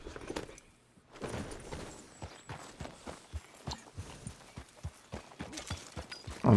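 Horse hooves clip-clopping in the Red Dead Redemption 2 video game, a steady rhythmic series of distinct hoof strikes at a trotting pace, fairly close, with no talking.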